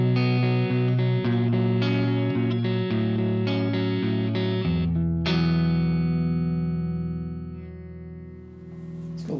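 An electric guitar plays through an amp with the gain pushed into distortion, a run of sustained notes and chord changes that ring out and slowly fade at the end, loud and close with no talking.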